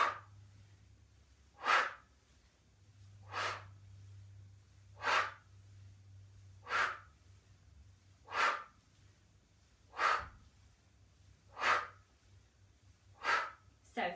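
Steady exercise breathing during a lower-body resistance band workout: about nine evenly spaced, close breaths, each a broad airy burst, repeating every second and a half or so over a low constant hum, with no talking.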